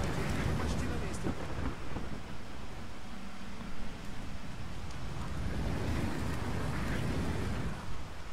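Rain pours steadily with rolling rumbles of thunder and gusting wind in a Batman: Arkham Asylum game scene, a dense, continuous storm wash that swells in the middle and at the end.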